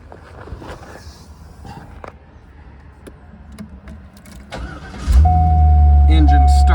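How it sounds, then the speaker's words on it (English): A 2001 Chevrolet Corvette C5 with its 350-horsepower LS1 V8 engine cranks and catches, settling into a loud, steady idle close by after a stretch of quieter handling sounds and brief talk. "Engine starts right up."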